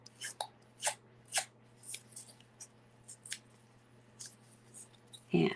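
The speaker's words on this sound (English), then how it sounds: "We're just going to take our scissors." Scissors scrape along paper edges to distress them, producing a series of faint, irregular scratchy strokes over a low steady hum in a quiet room.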